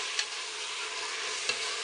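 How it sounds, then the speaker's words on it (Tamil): Mutton sautés in oil in a pan for Ramadan nonbu kanji, giving a steady, fairly quiet sizzling hiss with a couple of faint clicks of a spoon. No voices. "ஸோ மட்டனையும் போட்டு போகிறேன் இப்போது. அதுவும் நல்லா வதங்கட்டும்."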